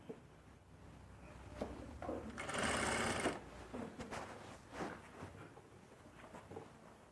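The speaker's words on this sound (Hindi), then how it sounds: "तो पहले सिलाई को कंप्लीट कर लेते हैं" A sewing machine stitches a winter dress in short bursts, with one longer steady run in the middle, close by amid light handling noise.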